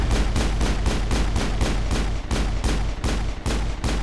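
Rapid, evenly spaced pistol shots ring out in the Mass Effect 1 shooter, roughly a dozen loud cracks fired back to back without pause.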